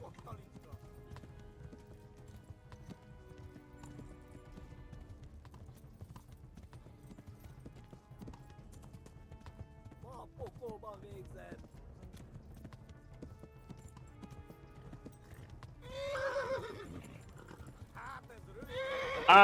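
A horse's hooves clip-clop along a stream path in Kingdom Come: Deliverance, a quiet, steady trotting rhythm that ends with a sharp, louder whinny near the close. A voice talks over parts of it.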